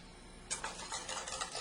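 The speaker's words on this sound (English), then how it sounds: "You want to whisk it thoroughly, and you want to see it start to bubble up a little bit." Whisk scraping and clinking rhythmically against a pan as a sauce is whisked, starting after a brief quiet moment, close and fairly soft.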